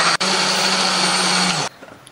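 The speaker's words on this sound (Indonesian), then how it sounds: "Tambahkan air supaya lebih gampang untuk menghaluskannya." A kitchen blender grinds chili, shallots and garlic with water, a loud steady whirring roar that starts abruptly and cuts off near the end, leaving quiet room sound.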